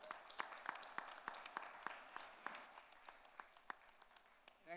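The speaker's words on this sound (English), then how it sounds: "Give her a big round of applause" Applause for a Canadian consul general being honored at a Rotary International District 3141 award ceremony in Mumbai, sounding as a quiet, distant patter of scattered claps that thins out toward the end.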